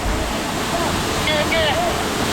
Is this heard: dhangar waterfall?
yes